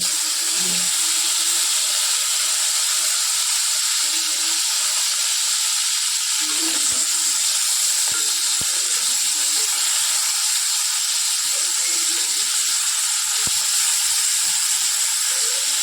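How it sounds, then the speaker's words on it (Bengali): Fish head frying in hot oil, a constant loud hiss and sizzle with occasional crackles and spits, no voices. "এবার ওই তেলের মধ্যেই আমি মাছের মাথা আর তেলটা ভেজে নেব।"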